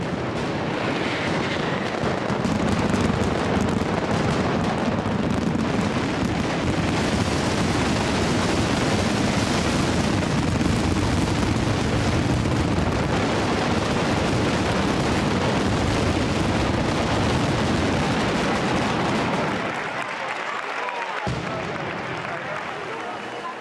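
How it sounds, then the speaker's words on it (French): A dense, continuous barrage of thousands of firecracker explosions in a mascletà at the Fallas roars for over twenty seconds, loud and relentless, easing slightly near the end. "C'est l'explosion savamment orchestrée de milliers de pétards."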